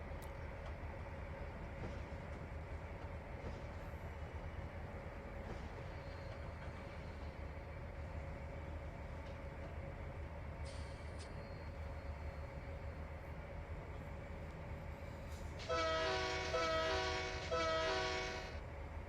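Faint, steady rumble of freight train tanker cars rolling along in the Trainz 2019 railway simulator, with a brief horn sounding near the end; no voices.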